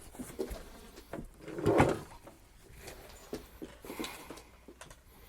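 A large pop-up green screen springs open indoors and knocks against overhead lights, giving a cluster of sharp clattering knocks and one louder thump amid scattered lighter taps.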